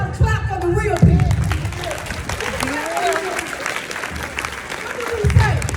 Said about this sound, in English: So I need y'all to clap for the real people